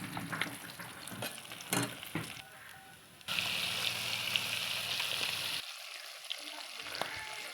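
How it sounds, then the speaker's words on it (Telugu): Fish frying in a pan sizzles steadily and close, a dense crackling hiss that jumps louder midway as pieces are turned, with occasional spatula clinks and brief quiet speech. "ఇట్లా ఒక సైడ్ కాలినాక మళ్ళీ ఇంకొక సైడ్ తిరిగేసుకోవాలి. అన్నిట్లనే ఫ్రై చేసుకోవాలండి."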